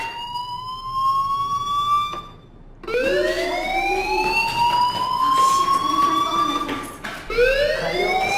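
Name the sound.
fire alarm in video game Life Is Strange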